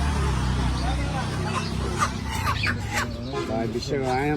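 Chickens cluck and cackle at a busy poultry market in Guimara Bazar, Khagrachhari, Bangladesh, amid noisy background with people talking and steady crowd hubbub.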